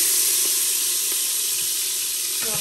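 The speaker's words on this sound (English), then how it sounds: "So I'm adding my butter. So we got our butter melting down." Butter melts and sizzles in an Instant Pot on its sauté setting, a steady bright hiss with faint crackles that runs unbroken from start to finish, with no talk over it.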